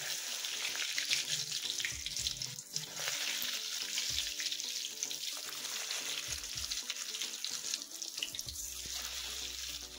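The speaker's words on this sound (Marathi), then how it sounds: "आपण एक एक पान आता तेलामध्ये सोडू।" Gram-flour-coated taro leaves fry in hot oil over low heat with a close, constant sizzle and crackle, steady throughout with a few soft clinks and stirs.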